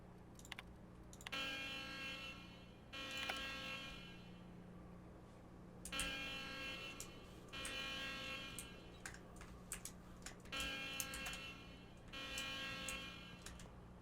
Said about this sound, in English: Okay, I've set off the alarm.